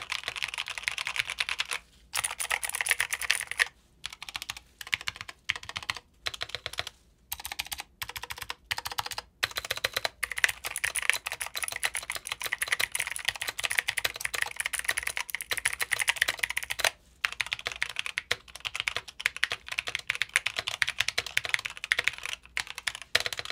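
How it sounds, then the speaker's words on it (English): Rapid, steady clicking of a Logitech Aurora wireless keyboard with blue switches, typed on close up in bursts with brief pauses, with no voices. "I absolutely love the way this keyboard sounds."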